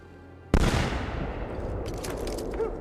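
A gunshot in Assassin's Creed II: after a quiet moment, a single sharp, loud blast rings out, followed by a long echoing rumble that slowly decays amid a scatter of crackles.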